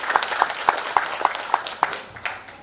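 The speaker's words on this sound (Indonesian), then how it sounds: "Tepuk tangan." Scattered applause from an audience at a local business talk in Indonesia, a handful of sharp claps spaced across a light crowd murmur, moderately close and fading toward the end.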